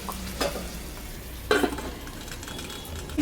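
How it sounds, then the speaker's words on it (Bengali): A prawn and water spinach dish cooks in a pot covered after a splash of water, giving off a steady, close sizzle with a few brief louder bursts and faint utensil clinks. "একটু জল দিয়ে ঢাকা দিয়ে দিলাম সিদ্ধ হোক"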